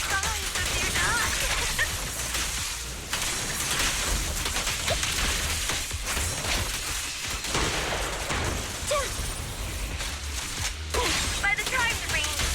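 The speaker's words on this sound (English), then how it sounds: "The wind and rain are picking up" Heavy wind and rain in the game Zenless Zone Zero: a steady, dense hiss of downpour and gusting storm noise fills the scene, with a voice speaking over it.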